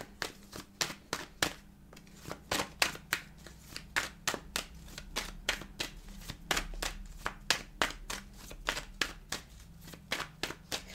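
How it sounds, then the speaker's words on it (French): Tarot cards being shuffled by hand, a long series of crisp, rhythmic riffling bursts about twice a second, close and fairly quiet with no talking. "je vais continuer de mélanger les cartes"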